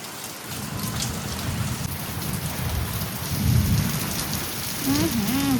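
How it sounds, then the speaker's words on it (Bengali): Heavy, wind-driven rain pours steadily on surfaces while deep thunder rumbles and swells beneath it, loud and continuous throughout. "এই দেখো অনেক বৃষ্টি, আর বাজও পড়ছে খুব। এই দেখো কেমন গুড়গুড় আওয়াজ।"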